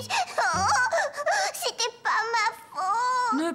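A young cartoon boy in the children's series Caillou cries in a high, wavering, sobbing wail, broken into several rising and falling bursts, close and loud.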